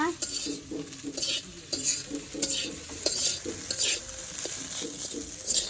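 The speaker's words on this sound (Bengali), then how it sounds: "ডিম বাজির মধ্যে পিঁয়াজ কুটি আর কাঁচামরিচ দিয়ে দিচ্ছে এখন এটার একটু সময় নিয়ে ভেজে নিতে হবে" Fish roe fries with chopped onion and green chili in a pan, a close sizzle with repeated clinks and scrapes of a spoon stirring against the metal.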